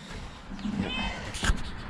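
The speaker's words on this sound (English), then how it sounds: "The big cat." A cat meows once or twice at close range, a short clear call over a steady background, with people nearby around a home and horse barn in winter.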